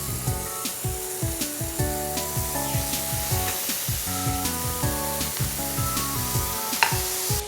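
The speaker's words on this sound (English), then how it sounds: "a few things of bacon into our hot pan" Bacon cooks in a hot pan, giving a continuous close sizzle. Rhythmic knocks and tonal clatter sit underneath it, and no one speaks.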